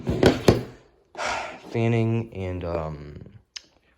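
A couple of sharp metallic clicks ring out up close as a balisong knife is fanned, then a person speaks, with one more click at the end.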